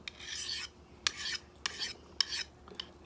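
Knife blade drawn across a DC4 sharpening stone in repeated strokes at a shallow grind angle, a close, rasping scrape that comes in about five separate passes with short pauses between them and no talking.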